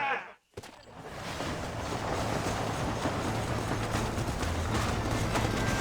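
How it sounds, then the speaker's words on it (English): A train rumbles along in Red Dead Redemption on PS5, a continuous loud roar with rhythmic rail clatter that starts after a brief sharp burst and gap, then holds steady to the end. "Hurry! The train is getting away!"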